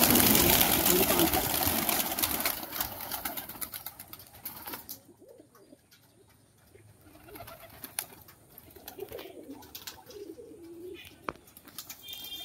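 Pigeons kept by a pigeon fancier coo softly in short repeated phrases, with some wing flutters and a rustly start, fairly close and moderately quiet, with people talking faintly in the background.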